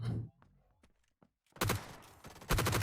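Bursts of gunfire in PUBG Blindspot, a top-down tactical shooter, crack out in loud rapid volleys after a quiet stretch of faint clicks and movement.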